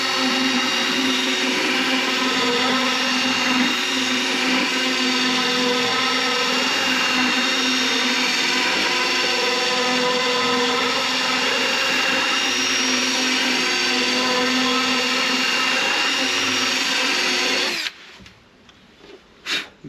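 A power tool spins a milling bit meant for aluminium and steel to enlarge and smooth a hole, a loud steady whine that runs without a break for most of the time and then stops abruptly, leaving a few faint knocks.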